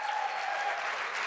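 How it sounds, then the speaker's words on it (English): Audience applause fills the room, a steady wash of clapping from a crowd that carries evenly through the short stretch with no talk over it. "give me a round of applause for that"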